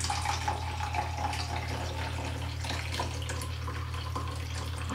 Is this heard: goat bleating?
no